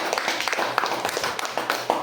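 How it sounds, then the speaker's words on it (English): Classroom students give a short burst of scattered, uneven hand claps, close and moderately loud, lasting about two seconds. "Give them a clap."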